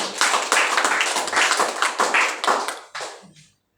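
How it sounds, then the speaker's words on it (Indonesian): A church congregation at a Sunday evening service gives a short round of hand clapping, brisk and fairly close, fading out after about three seconds. "Mari kita berikan tepukan tangan untuk Tuhan."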